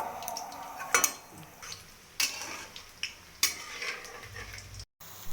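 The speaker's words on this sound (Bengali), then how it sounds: "একটু খুন্তি দিয়ে একটু নাড়াচড়া করে নেবো, নাহলে পুড়ে যাবে।" A spatula stirs onion pakoras frying in a pan, giving a few distinct scraping clinks spaced about a second apart over a quiet background sizzle.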